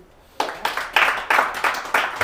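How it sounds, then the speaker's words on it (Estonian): Audience in a lecture hall breaking into applause, a burst of clapping that starts abruptly and pulses in several uneven swells, moderately loud and fairly close, with no voices over it. "Teeme aplausi."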